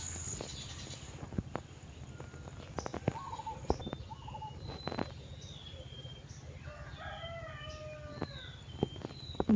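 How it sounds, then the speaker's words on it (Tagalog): Birds chirp and call in short bursts over a low background hum, with a few sharp clicks scattered throughout; the calls grow busier toward the end. "Ang tunog ng ibon."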